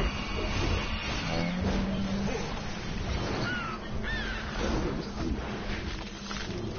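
A crow in DC Universe Online caws a couple of times in the middle of busy game sounds, with a soft voice partly underneath.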